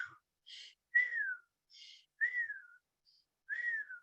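A voice imitates the wheezing of an asthma attack, a series of thin, whistling breath sounds, each a short falling whine alternating with breathy puffs, quiet and close with pauses between.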